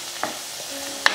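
Spices, curry leaves and garlic fry in a pan for a Sri Lankan canned fish curry, a steady close sizzle with a couple of sharp stirring clinks of a utensil against the pan.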